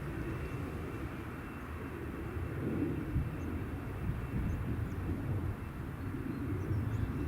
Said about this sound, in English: There's Logan Air, taxiing along.